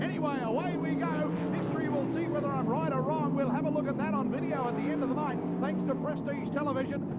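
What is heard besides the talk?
racing car engines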